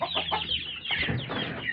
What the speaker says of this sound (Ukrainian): адлери сріблясті. Це вони сидять там в загородці